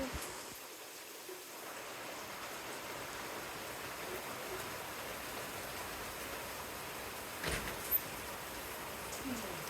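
Rain falls steadily as an even, fairly faint hiss during a violent storm with wind, continuing throughout with a few small bumps near the end.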